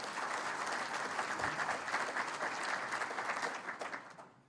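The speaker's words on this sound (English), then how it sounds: "I think you should applaud that," Audience at a city's state-of-the-city address breaks into sustained applause, a full, even roar of many hands that holds steady and then tapers off at the end.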